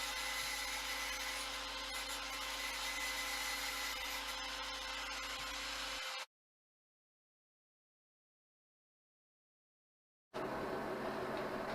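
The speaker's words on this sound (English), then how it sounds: "using an angle grinder I'm just going to give a sort of torn fabric effect all the way along the bottom" An angle grinder cutting scrap metal strips to give a torn fabric edge, a steady high whine held for about six seconds, then silence, then resuming, close and continuous.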